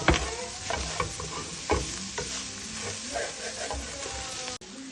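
Garlic sizzles in a pan with a spaghetti mixture, a steady close frying hiss with stirring clinks and scrapes and a few sharp taps. Nobody speaks.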